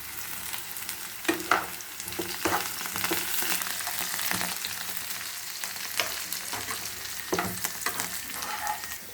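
Potatoes stir-fry in a pan as a close, steady sizzle runs throughout. Intermittent scraping and knocking from stirring sit on top of the hiss, with no talking.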